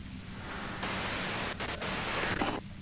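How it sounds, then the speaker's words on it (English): Dense white-noise static from the Disco Elysium video game hisses steadily across the whole moment, loud and broadband, swelling slightly partway through with brief dips, no voices over it. "you can do it through the white noise."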